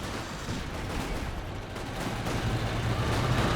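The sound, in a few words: artillery shot from LFH howitzer, video game Company of Heroes 2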